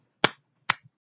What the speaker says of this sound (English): Give yourself 2 claps